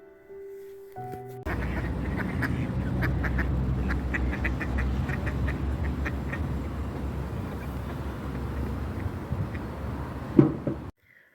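Wild ducks quack in a steady chorus of repeated calls close by, with a low background rumble underneath.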